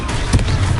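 A Confringo blasting spell going off in Hogwarts Legacy, a short loud thumping burst with a heavy low boom and a brief crackle.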